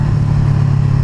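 A Honda CBR500R fitted with an Akrapovic slip-on exhaust idles close by, a loud, steady low burble with an even, throbbing pulse.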